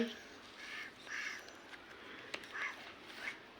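A voice imitates a cat's meow with about four short, nasal, wavering cries spread evenly over a few seconds, fairly close and moderately loud against a quiet room.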